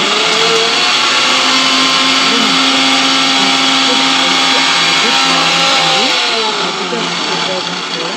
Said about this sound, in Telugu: పాలు, మిల్క్ పౌడర్ని దాన్ని మిక్సీలో వేసుకొని డబల్ తిప్పాలి